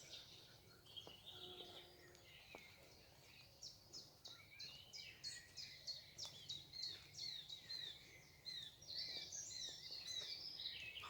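Birds sing by a riverside in spring, a series of bright, repeated chirping phrases at moderate distance, growing busier and more rhythmic over a soft outdoor background.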